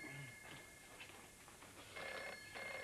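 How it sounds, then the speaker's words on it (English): A landline telephone rings in a family home, with a few short bursts of bright, repeated ringing against a quiet room, the rings loudest toward the end. "Oh, that'll be the phone."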